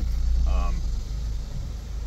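A car pulls into a shop, its engine rumbling low and steady at close range with a faint mechanical whine partway through.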